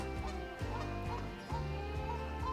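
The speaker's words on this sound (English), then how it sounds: "I've got a goose that won't shut up" A goose honks repeatedly beside a park lake, with loud, close, nasal calls coming in quick overlapping bursts over a steady low background hum.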